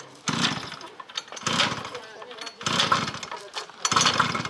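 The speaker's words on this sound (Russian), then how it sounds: "ребята на улице оживляют трехколесный дырчик." A small three-wheeled motor vehicle runs outdoors, its engine chugging in repeated loud bursts with short lulls between them.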